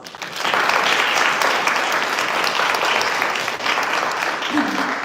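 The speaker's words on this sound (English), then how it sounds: "please give them your warmest applause" Sustained audience applause at an alumni debate at Hart House, dense and steady for about five seconds, with a brief murmur of voices near the end.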